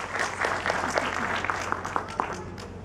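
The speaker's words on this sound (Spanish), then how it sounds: "un fuerte aplauso para Mario Bustamante" An audience at a book fair applauds a cartoonist, a dense run of clapping from a sizable crowd that holds steady for a few seconds over a faint background hum.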